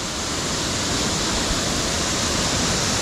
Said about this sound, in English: you can see where the water's coming underneath the aqueduct, underneath the road there. It's getting forced to the left first and then dropping down